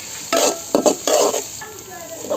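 Onion and chopped garlic fry in a pan for a kolai greens dish, with several loud bursts of stirring and scraping over a steady sizzle, fairly close.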